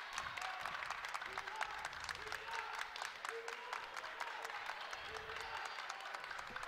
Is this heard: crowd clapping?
yes